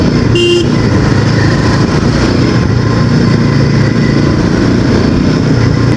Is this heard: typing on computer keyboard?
no